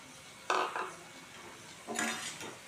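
Chopped egg is added to gravy in a pan and stirred, giving two close bursts of spoon scraping and clinking against the metal pan, separated by a quiet pause.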